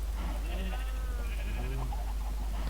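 Sheep in Minecraft bleat in a few wavering calls, one after another, over a steady low hum.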